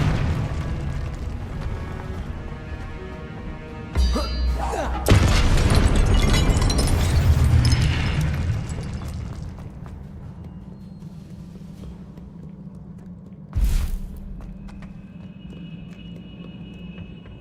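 A Confringo fire-spell explosion in Hogwarts Legacy erupts in one loud, rolling blast that slowly fades, followed later by a shorter, sharp burst over quieter game ambience.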